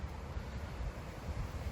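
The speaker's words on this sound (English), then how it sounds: "The wind really picked up." Outdoor wind rumbles and buffets the microphone in a low, continuous roar, faint and steady with small gusting swells and no voices.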